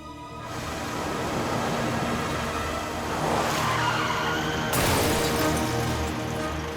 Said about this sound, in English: One of the guys heard tires screeching and that definite thud that we all know in the towing industry.